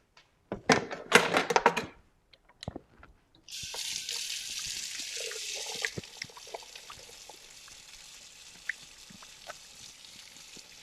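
A kitchen sink tap runs for hand washing after the cutting board and knife are put away, a steady close hiss of water following some clattering handling noises.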